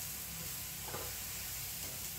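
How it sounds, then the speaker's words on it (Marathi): Colocasia (taro) leaf rolls sizzle steadily as they are sautéed in a pan, a soft continuous frying hiss with faint stirring, close and even throughout. "आता मी चांगले परतून घेते त्याची."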